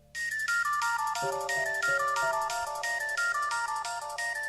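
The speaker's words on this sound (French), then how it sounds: "tu vas recevoir un coup de fil" A telephone ringtone for an incoming call plays a repeating melodic electronic phrase in steady cycles, loud and close, with no talk over it.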